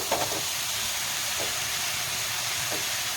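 Tomato goes into a hot pan of spiced masala for a rohu fish curry with winter vegetables, and a continuous broad hiss of sizzling fills the pan, with a few faint soft knocks.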